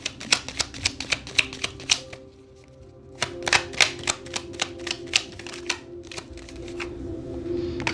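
Tarot cards are shuffled and drawn in bursts of quick, crisp snapping flicks, a run of sharp taps, a short pause, then another rapid series, close and alone without talk.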